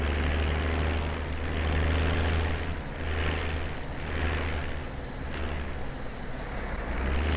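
Farm vehicle driving in Farming Simulator 17 on Giants Island, a steady low engine drone with a constant hum holding throughout, close and loud with slight swells and a few faint clicks.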